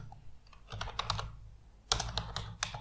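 Code being typed on a computer keyboard: close, crisp keystroke clicks come in two quick bursts separated by a short pause, with no talking.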